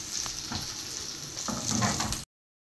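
Onions fry in hot oil with bay leaf, cinnamon and white cardamom, making a close, steady sizzle with a couple of soft utensil taps before stopping abruptly.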